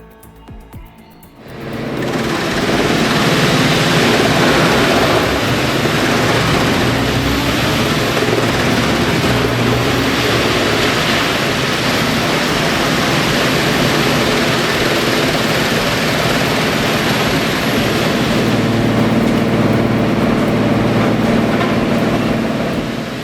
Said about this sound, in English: Gandini didn't just design a chipper, they engineered a powerhouse.